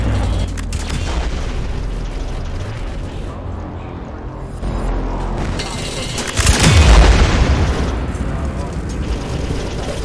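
A grenade explodes in the Orange Cast game, a deep booming blast rising over constant rumbling game noise partway through, close and heavy.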